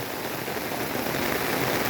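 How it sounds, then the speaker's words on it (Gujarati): Heavy rain pours down outside a village home in the monsoon, a dense, continuous hiss of drops with no pauses. "ખૂબ જ વરસાદ પડે"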